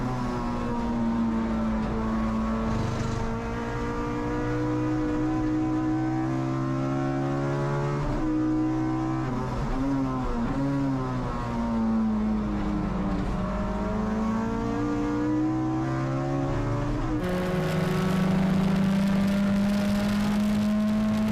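Under 2.0-litre race cars, including a front-wheel-drive turbocharged Volvo, lap Sydney Motorsport Park with a steady, near engine drone whose pitch rises and falls through gear changes.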